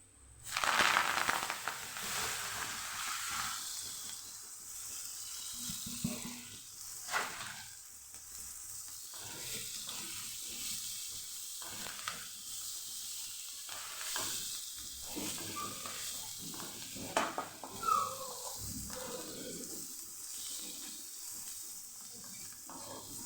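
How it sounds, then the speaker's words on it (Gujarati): Fenugreek greens sizzle and crackle in hot oil, with intermittent scraping and stirring of a spatula against the pan. "ભાજીને આપણે સરસ તેલ સાથે સાતડી લીધી છે"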